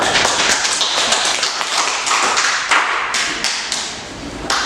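A classroom of students clapping their hands together, a dense, lively patter of many overlapping claps that tapers off near the end, with no talking.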